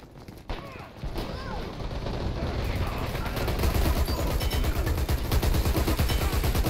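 Assault rifle fire in the shooter game Dirty Bomb rattles in rapid sustained bursts that grow denser and louder toward the end, with a sharp single shot near the start.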